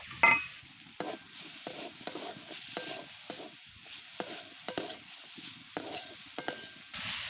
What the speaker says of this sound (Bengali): এবার কিছুক্ষণ ধরে আমি ভেজে নেব